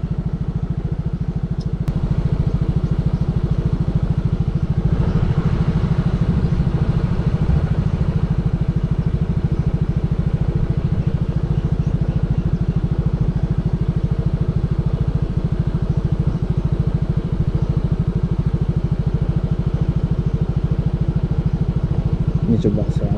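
A motorcycle engine running close by on a narrow one-vehicle village bridge in rural Indrapuri, Aceh Besar, with a steady low chugging drone and some clatter that holds fairly level throughout.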